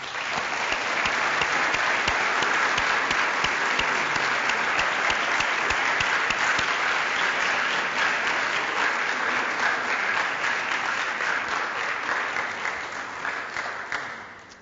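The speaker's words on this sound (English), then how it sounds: "they deserve a special round of applause" A university audience applauds students with a sustained, dense round of clapping that holds steady for over ten seconds before tapering off at the end.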